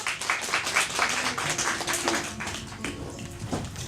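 Audience applause at a talk welcoming a speaker, with a steady stream of many hands clapping at moderate loudness that eases slightly toward the end.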